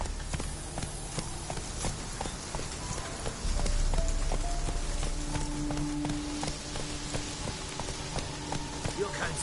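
Roach the horse gallops in The Witcher 3, rapid hoofbeats clattering steadily over a rain-like hiss of ambient noise, with game music and a voice faintly underneath.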